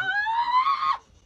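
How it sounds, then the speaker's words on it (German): A woman lets out a single loud, sustained scream lasting about a second, high and steady before cutting off abruptly into near silence. "Die schreit einfach."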